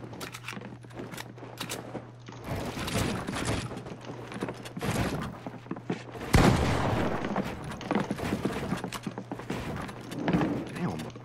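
Video game gunfire and weapon handling, with bursts of shots and mechanical clatter that grow louder around the middle, continuing under a steady background hum.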